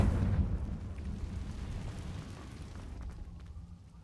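A Confringo fire spell explodes in Hogwarts Legacy, a loud booming burst at the start that rolls into a long, fading rumble, with faint crackles trailing off and no speech.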